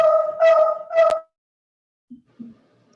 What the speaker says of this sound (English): Sorry if you hear my dog in the background there.